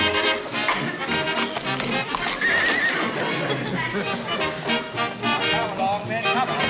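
Several horses neigh and whinny loudly while hooves clip-clop in an irregular, busy patter close by.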